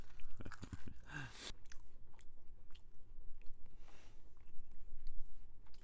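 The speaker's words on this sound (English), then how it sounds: "I chew my gum excessively." Gum chewed close to the mic, wet smacking and squelching bites in an uneven rhythm, loudest at the start and then continuing softer in the background with no talking.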